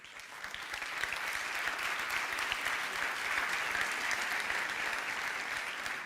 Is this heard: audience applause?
yes